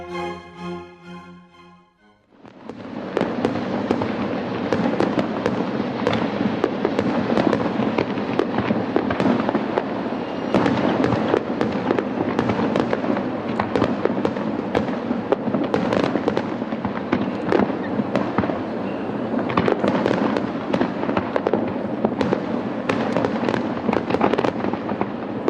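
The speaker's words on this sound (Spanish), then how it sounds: "Las fotografías de fuegos artificiales gustan a todo el mundo." A fireworks display pops and bangs continuously, dense overlapping explosions crackling at a fairly loud, steady level for over twenty seconds after a brief quieter opening.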